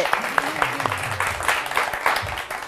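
Studio audience applause on a live TV weekend talk show, a steady patter of clapping lasting the whole moment, moderately loud, with some voices and music-like tones underneath.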